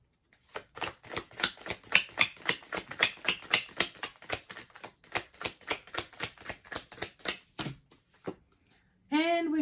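Tarot cards shuffled by hand in a fast, even run of crisp riffling flicks, close and clear, ending with a brief pause and a short burst of voice.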